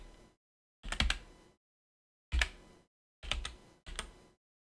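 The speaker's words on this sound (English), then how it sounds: "I just have a noisy keyboard" A noisy computer keyboard clacks in four short bursts of rapid keystrokes separated by silent gaps, close to the microphone and with no talking.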